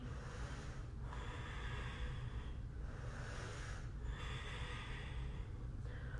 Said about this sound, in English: And hold and breathe in high plank.